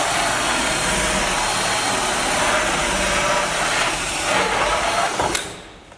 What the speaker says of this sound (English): You can see I've drilled a hole.